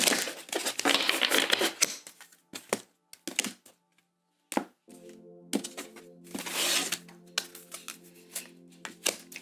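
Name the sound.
shuffling tarot cards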